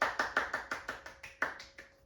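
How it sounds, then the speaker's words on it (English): A small group clapping at a low-key personal celebration, a dozen or so distinct claps in a loose steady rhythm, fairly close and moderately loud, with no talking over them. "A little round of applause, a little round of applause."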